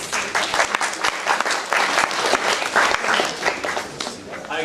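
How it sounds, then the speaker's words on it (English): A class audience claps steadily for several seconds, a dense, lively round of applause filling the room with a few voices mixed in. "And give them a round of applause."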